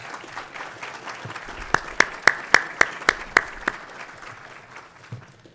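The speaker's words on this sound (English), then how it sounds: "Let's give them a big round of applause." A seated audience at a human rights awards ceremony gives a round of applause, a steady bed of many hands clapping with several sharp, louder claps standing out near the middle before the sound tapers off.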